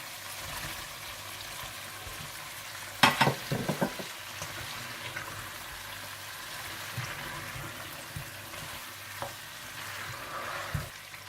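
Mutton and potatoes stirred and frying in a pot for aloo gosht, giving a steady sizzle with a burst of scraping, clattering stirs early on and occasional soft knocks afterward.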